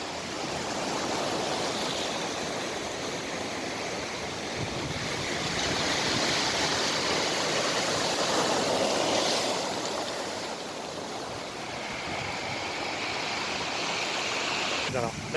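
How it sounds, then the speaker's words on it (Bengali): Big sea waves at Salinas beach in Asturias, a steady broadband roar of surf rising and falling over fifteen seconds, mixed with wind noise, while someone speaks over it. "কত বড় ঢেউ দেখছো"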